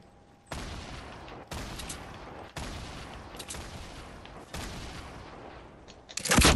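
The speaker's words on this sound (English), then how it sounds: "That'll be enough shooting." Video game gunfire from a shooter with grenade launchers, rockets and sniper rifles: several sustained bursts of heavy shooting, each starting abruptly and rolling on for about a second, with a loud blast at the very end.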